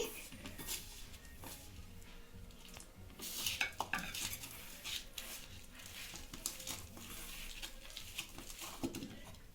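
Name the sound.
mixing bonda batter with curd in a bowl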